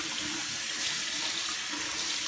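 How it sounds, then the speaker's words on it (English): Steady stream of sink tap water runs continuously while a hand and washcloth are rinsed under it in a bathroom, a close, even hiss with no talking. "I rinse my hand and my washcloth"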